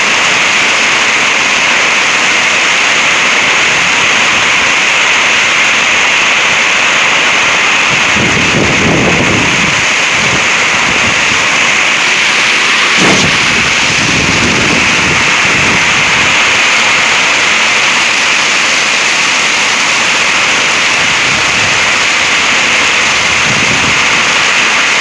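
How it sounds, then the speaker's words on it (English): Microburst winds from a severe thunderstorm roar in a constant loud wash of gusting air and heavy rain, with stronger bursts buffeting the microphone now and then. "Yeah, this is a microburst here."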